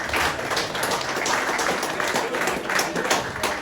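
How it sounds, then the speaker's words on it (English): A comedy club audience in Fort Wayne gives itself a round of applause, a lively, sustained wash of many hands clapping at steady volume, close and crowded, with a few sharper individual claps poking through. "Now give yourselves a round of applause here"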